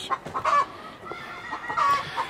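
A wild hen that lays green eggs clucks in a series of short, close calls with a few louder bursts, standing alone without talk.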